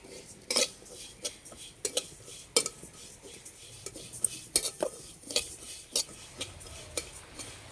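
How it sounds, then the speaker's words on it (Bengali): Homemade sesame seeds dry-roasting in a pan over low heat, stirred with a utensil that scrapes and clicks against the metal in irregular strokes, with a faint background crackle. "প্রথমে তিল ভেজে নেব।"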